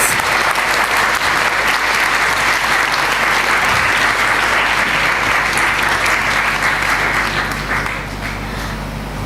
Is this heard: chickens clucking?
no